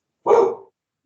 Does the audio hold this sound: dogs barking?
yes